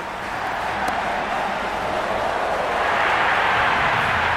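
A cricket crowd at a T20 World Cup match between Afghanistan and UAE keeps up a steady, loud, dense roar of cheering that swells slightly toward the end, with no distinct voices standing out.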